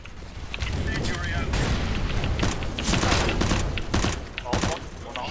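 Loud video-game explosions and gunfire in a competitive shooter match, with a grenade blast among dense bursts of shots, booming and continuous under voices talking throughout.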